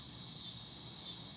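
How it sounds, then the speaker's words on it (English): Cicadas droning at dusk from a front porch, a steady high-pitched buzzing chorus that stays even and fairly faint throughout, with no voices. "I don't know what they call them, cicadas."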